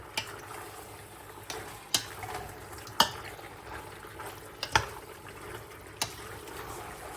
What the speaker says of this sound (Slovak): A všetko spolu premiešam.